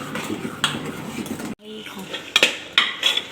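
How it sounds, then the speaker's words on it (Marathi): A spoon stirs sugar into carrot halwa inside a pressure cooker, with close, irregular metallic scrapes and clinks against the pot, sharper strokes bunching toward the end. "आता इथं ह्या स्टेजला आपल्याला जी आपण साखर घेतली होती ती घालून घ्यायची आहे. आता ह्याच्यामध्ये मिक्स करून घ्यायचे आहे."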